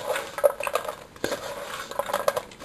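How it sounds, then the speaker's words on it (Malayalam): Spoon stirring a crispy snack through sugar syrup in a pan, a run of close scraping clinks and metallic taps against the pan, irregular and fairly loud, with no voices. "ഇത് തണുപ്പ് ഇത് വേറെ വേറെ കിട്ടണ വരെ നമ്മളിങ്ങനെ ഇളക്കിക്കൊണ്ടിരിക്കും."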